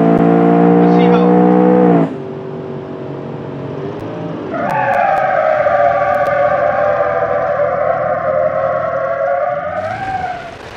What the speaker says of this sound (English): This also is a twin turbo V8 with all-wheel drive.